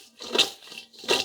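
Two crisp rustling crunches a moment apart, freshly fried chips for fish and chips tossed and shaken in a bowl, close and fairly quiet.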